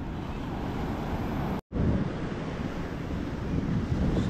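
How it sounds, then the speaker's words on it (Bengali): Sea waves wash onto the beach at Puri in a continuous roaring surf, with heavy wind buffeting the microphone. The sound cuts out for a split second partway through. "সমুদ্রের ঢেউতে পা প্রায় ভিজেই গেছে, প্যান্টও একটু একটু ভিজে গেছে"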